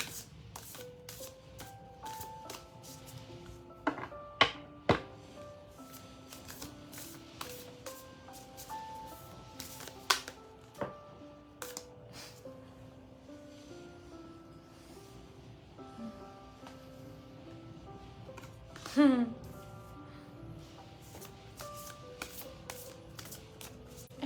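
Tarot cards being shuffled and pulled during a psychic reading, with soft riffling and flicking of cards, scattered taps and sharper snaps, fairly quiet and close, accompanied by gentle background music.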